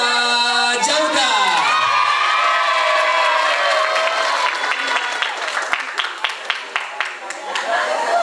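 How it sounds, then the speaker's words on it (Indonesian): An audience at a spiritual motivation event breaks into lively applause with cheering and children's shouts, a loud crowd roar at first that settles into steady clapping with distinct claps popping out near the end. "kita sambut dengan tepuk tangan yang meriah Kak Jauda"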